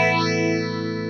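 Electric guitar chord through a Positive Grid Modulation Twin pedal's compressor running at 9 volts, a sustained chord sweeping with a swirling modulated shimmer, loud and alone.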